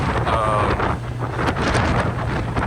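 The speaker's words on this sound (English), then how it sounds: "It's very windy." Steady wind buffets the microphone on the upper deck of a cruise ship with a constant low rumble and roar, loud and unbroken throughout.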